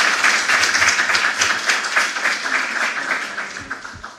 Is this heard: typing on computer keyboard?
no